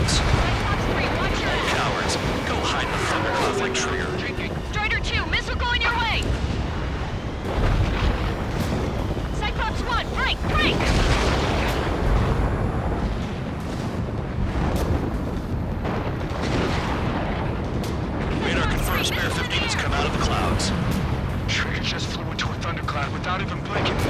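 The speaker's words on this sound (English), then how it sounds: "Strider 2 struck by a missile." Missile explosions in Ace Combat 7: Skies Unknown amid jet engine roar, with repeated booming bursts through a dense aerial battle while radio voices talk over it.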